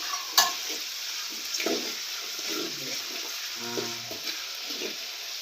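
Ginger and garlic hit hot oil with frying country chicken, giving a steady close sizzle with a few soft stirring scrapes and small pops, no talking.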